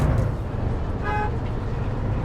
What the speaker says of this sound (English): Give a nice honk to people, wake them up on their way.